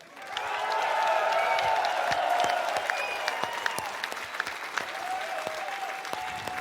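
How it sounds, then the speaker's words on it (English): A large audience claps and applauds steadily for the Homestory Cup XX StarCraft champion, sustained and loud throughout, with the clapping thinning slightly toward the end. "one more very big round of applause for your Homestory Cup 20 champion, Serral."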